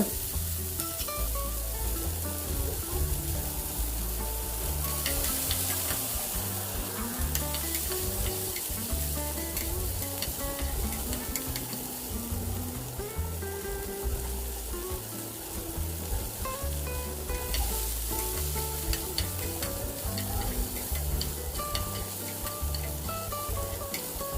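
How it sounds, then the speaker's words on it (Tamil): Small onions (shallots) sizzling steadily in hot oil for a Sri Lankan sambal, close and continuous, with occasional stirring clinks and scrapes in the pan and no talking. "நம்ம எடுத்து வச்ச சின்ன வெங்காயத்தை போட்டு வதக்கி எடுத்துக்குவோம்"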